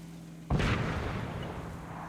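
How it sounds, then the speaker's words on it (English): A mortar round from the game Antistasi lands with a single sudden heavy boom. The blast rings out into a rumbling tail that slowly fades, with no voices. "I'm pretty sure we're about to eat some mortars"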